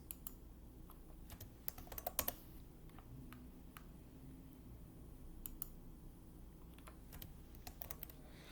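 Typing on a computer keyboard, irregular bursts of quick clicking keystrokes with a few louder taps, close but quiet against a low background hum, no voices.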